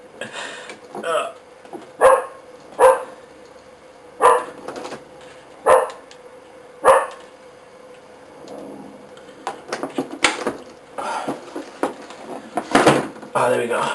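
A dog barks in a series of sharp, spaced barks close by, roughly six loud yelps in a row, followed by scattered clatter and a voice talking.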